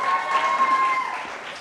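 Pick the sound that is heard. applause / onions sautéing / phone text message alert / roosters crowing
applause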